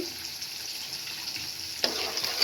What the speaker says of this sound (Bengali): আবার এগুলো নেড়ে নেব। ভালোভাবে মশলা ভাজা হয়ে যাবে